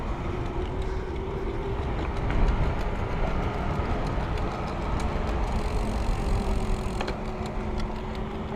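An iGo Urban mid-drive electric bike rides along a road, giving a continuous rolling hum and wind rush at an even level throughout.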